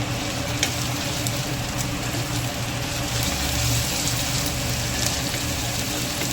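Garlic, cumin and ginger paste, green chili paste and curry leaves sauté in hot oil with a steady, dense sizzle and occasional faint clinks.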